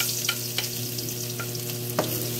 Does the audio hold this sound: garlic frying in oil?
yes